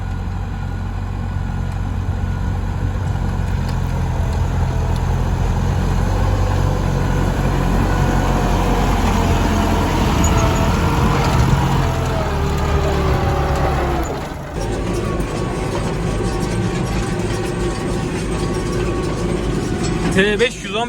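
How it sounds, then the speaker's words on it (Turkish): A New Holland T5 115 turbo tractor engine runs with a loud, steady low diesel drone and turbo whine, its tone shifting slightly partway through, while a voice may be talking over it. "Hani üst devirlerde turbo tam açıp alt devirlerde turbo ölmüyor turbo alt devreden itibaren vermeye başlıyor tüm gücünü."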